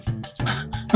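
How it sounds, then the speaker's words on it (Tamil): A man coughs in two or three harsh, throaty bursts close up, with a final louder hack; he has been suffering from the cough for a month. "இந்த இருமல் இருக்குல்ல, ஒரு மாசமா என்னை போட்டு பாடா படுத்துதுமா"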